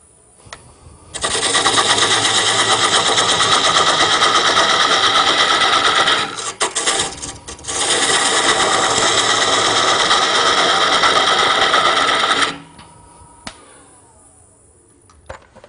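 Carbide cutter cutting a wooden tenon on a lathe, a loud, steady buzzing whir that runs for several seconds, briefly dips, then resumes before cutting off into quiet.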